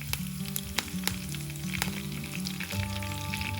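Curry leaves sizzle and spit in hot oil with urad dal, chana dal and cumin, a steady close frying hiss with sharp crackling pops throughout.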